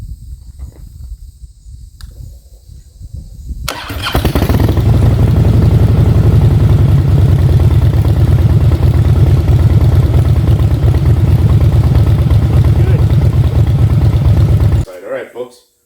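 A Harley-Davidson Softail, just repaired after losing fuel pressure, is cranked and its engine catches and settles into a loud, steady, close idle that runs for about ten seconds before cutting off; soft handling noises come first.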